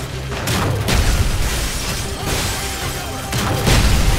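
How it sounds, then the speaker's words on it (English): A grenade launcher in the video game Modern Warfare 3 fires, setting off a series of loud booming explosions with rumbling debris over about four seconds, dense and continuous with repeated bursts. "It's a little grenade launcher."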